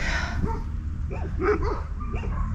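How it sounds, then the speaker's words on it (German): Stray dogs in a Balkan village bark and yip close by in a short excited burst, several sharp barks over low road or wind rumble. "Hey, da sind so viele Hunde."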